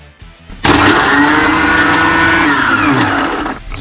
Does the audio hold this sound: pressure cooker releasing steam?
no